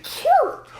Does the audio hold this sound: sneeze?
yes